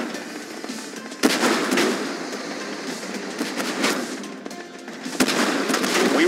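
Tank cannon shots in a tank combat video game, two sharp booming blasts about four seconds apart over a continuous rumbling engine and battle din.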